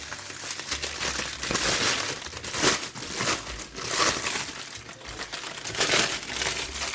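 Crumpled parchment paper crackles and rustles up close as it is pulled open, with irregular bursts of crinkling rising and falling over several seconds, no talking.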